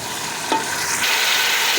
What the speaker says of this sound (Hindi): ऑयल हमारा गर्म हो चुका है, तो अब हम इसमें ये प्याज डालेंगे।